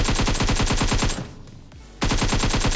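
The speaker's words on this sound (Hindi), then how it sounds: "पहले ऊपर एक बंदा शॉटगन चला रहा है उसे देखते हैं पहले।" Rapid, evenly spaced gunfire from PUBG Mobile, loud and close, in a steady burst that stops for about a second and then resumes at the same pace, with no talking over it.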